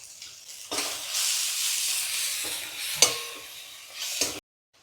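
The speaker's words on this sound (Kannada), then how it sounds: "ಮೆಂತ್ಯ ಸೊಪ್ಪು ಈರುಳ್ಳಿ ಜೊತೆ ಚೆನ್ನಾಗಿ ಫ್ರೈ ಆಗಬೇಕು." Chopped onion and fenugreek leaves fry in a pan with a loud, steady sizzle and hiss, broken by a few scraping stirs, before cutting off abruptly near the end.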